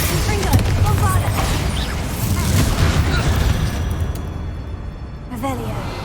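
The Bombarda blasting spell from Hogwarts Legacy sets off a dense, continuous explosive roar with crashing debris and rumble, loud and sustained throughout, ending in a brief burst.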